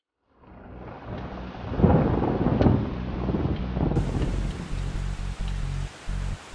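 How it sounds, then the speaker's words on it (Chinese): Rain falls steadily as thunder rolls in loud and heavy, peaking early before a deep, lingering rumble, with gusts of wind buffeting the microphone. "下雨了，来给你送伞。"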